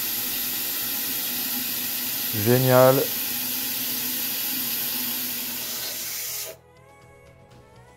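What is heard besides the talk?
toilet cistern filling with water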